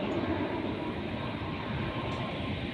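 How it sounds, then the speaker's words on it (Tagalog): A broad, steady roar fills the air as an airplane passes overhead near an airport, loud and continuous without change across the moment, with no voices over it. "Aeroplano guys. Lapit kasi kami sa airport."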